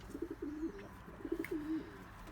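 Racing pigeons cooing close by, two rolling coo phrases in quick succession against a faint background hiss, soft and alone.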